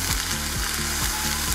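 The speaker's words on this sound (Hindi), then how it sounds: "इसी के साथ हम हमारी अदरक लहसुन का पेस्ट डाल देते हैं। इसकी बुनाई अच्छी तरह कर लेते हैं" Ginger garlic paste sizzles loudly and continuously in a pan for a restaurant-style mutton kofta curry, with a rhythmic scraping stir repeating about every half second.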